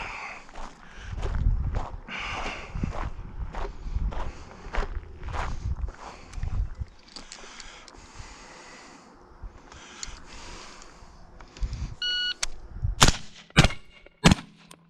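Gunfire during a warm-up shooting drill: muffled, spaced reports through the first half, then a few sharp, loud shots in quick succession near the end, with quieter stretches between.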